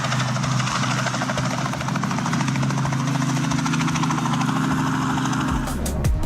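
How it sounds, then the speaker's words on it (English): A helicopter striking power lines, its rotor and engine roar loud and steady throughout, with a sharp change and bursts of noise near the end. "A helicopter colliding with power lines looks dangerous."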